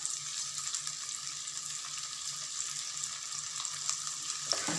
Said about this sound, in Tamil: நல்லா வதக்குவாங்க.